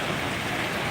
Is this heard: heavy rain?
yes